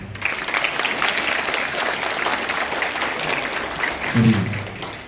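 A crowd of children claps together at a camp inauguration in Kalpetta, a dense, lively round of applause that fills the clip and fades slightly at the end.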